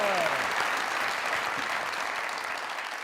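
Audience applause at a live comedy show taping, a dense, steady wash of clapping from a large crowd, fairly close and sustained throughout with a brief voice at the start.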